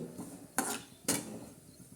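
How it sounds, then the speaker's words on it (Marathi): A spoon scrapes and clinks against a pan while semolina dry-roasts, two short distinct metallic strokes over a faint background, heard alone. "आता हे रवा आपला भाजतोय खरपूस बघा"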